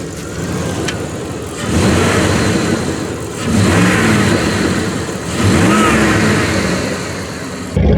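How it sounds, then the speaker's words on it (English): A Jeep Grand Cherokee ZJ V8 engine with the muffler removed revs loudly in three rising surges, a deep throaty rumble swelling and easing back to idle between each, close by with no talk. "In the back you have the sound of the V8"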